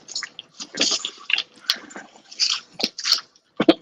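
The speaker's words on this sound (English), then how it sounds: "I'm eating some jalapeno Cheetos." Jalapeno Cheetos crunch between the teeth, close to the mic, in a quick, irregular run of crisp bites and chews separated by brief silences.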